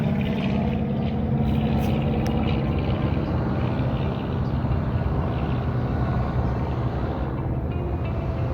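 An airplane passes over Palmer, Alaska as a broad, steady low roar at moderate distance, sustained throughout with no talking.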